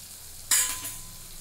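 Ground spices for a capsicum potato bhaji are stirred in a hot pan, giving a sudden close sizzling hiss that bursts up and then slowly fades over a quiet background.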